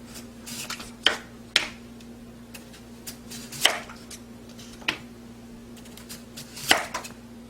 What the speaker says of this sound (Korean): 먼저 무를 썰어서 절여 놓겠습니다